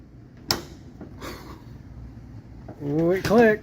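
A low-profile hood latch on a car snaps shut with a sharp click near the half-second mark, followed by a second faint knock; voices speak afterward.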